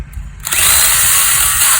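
A small handheld chainsaw revs up after a brief pause and cuts into wood with a loud, sustained, high-pitched whine, close by and continuous to the end.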